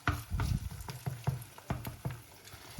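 An egg is stirred and mixed as it fries in a pan, with rhythmic utensil taps and scrapes about every quarter second over a light, steady sizzle close by.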